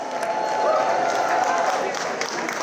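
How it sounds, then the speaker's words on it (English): Audience applause at an annual charity evening event, a dense, steady wash of clapping and crowd noise that holds at an even level throughout without a break. "Can we get a round of applause for them?"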